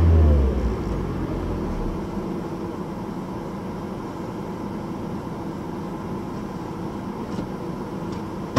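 A Toyota Prius engine revving at around 3000 to 4000 rpm gives a steady, moderate hum with a low rumble, heard from inside the car and holding fairly constant throughout.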